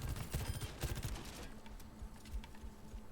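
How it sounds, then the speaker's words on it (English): Orisa's pulse carbine rifle fires in Overwatch 2 as a rapid burst of sharp automatic shots at the start, then it thins into scattered softer shots and game noise. "Her gun feels kind of like an assault rifle, kind of like an SMG."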